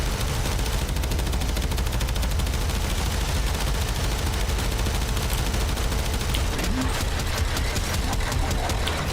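Warframe combat with continuous rapid-fire weapon shots, a dense, steady rattling barrage running at constant loudness from start to finish.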